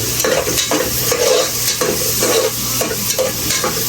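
A pan of food with tomatoes fries and sizzles steadily while a utensil stirs and scrapes in repeated strokes, close and loud with no talking.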